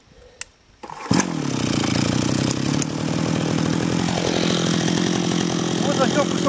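A brush cutter fitted with a cultivator attachment is started with a short pull, then its two-stroke engine catches and runs at a loud, steady rasping idle close by.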